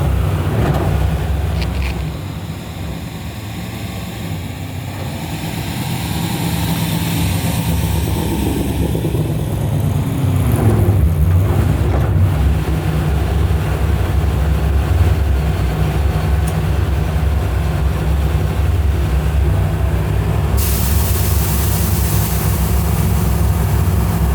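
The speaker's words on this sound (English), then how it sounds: "this is a full-blown NASCAR motor in this thing" Full-blown NASCAR engine in a 1970 Plymouth Cuda rated around 900 hp, a loud, steady, deep rumbling idle heard close up and continuously, with a slight dip early on and no talking.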